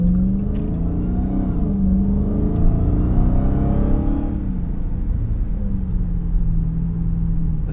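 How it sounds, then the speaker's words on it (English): A loud supercharged V8 engine in a 2023 Dodge Charger SRT Hellcat Jailbreak Widebody revs up with a rising supercharger whine, then drops back to a deep, rumbling idle. "The supercharger sound is just intoxicating."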